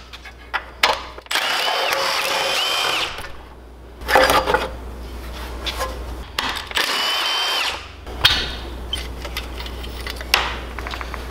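A power tool, likely an impact driver or drill, whirs in repeated bursts while the side cover, flywheel and starter come off a 440cc small engine, with short pauses and clanks between runs.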